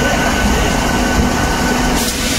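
A train pulling into Puducherry station, a loud, dense rumble of rolling wagons and engine noise filling the whole moment without any voices.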